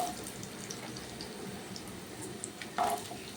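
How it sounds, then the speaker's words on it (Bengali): Potatoes fry in a pan while a vegetarian pulao is cooked, giving a soft, steady sizzle throughout, with faint clinks and a brief louder stir near the end. "আলু আর গাজর আগে ভেজে নিচ্ছি।"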